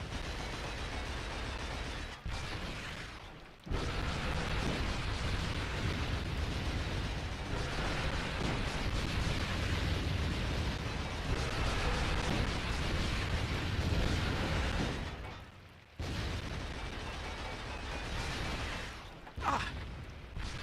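Rumbling, booming blasts from grenades in the Killzone Liberation video game fill most of the stretch, dense and loud, with two brief drops near the start and two more toward the end.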